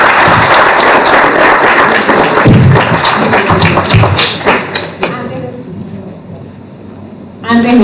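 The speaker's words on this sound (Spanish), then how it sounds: "Un aplauso de nuevo para ellos." An audience applauds loudly at an international port heritage colloquium panel. The clapping fades after about five seconds, and speech and quiet room sound follow.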